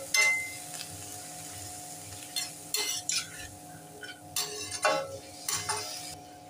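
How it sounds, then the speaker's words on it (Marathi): Sprouted matki is stirred in a pan, with intermittent scraping strokes and light clinks of a spoon over a quiet sizzle and soft tonal background music. "आता इथे आपण मोड आलेली मटकी घालूया. छान व्यवस्थित मिक्स करून घेऊया."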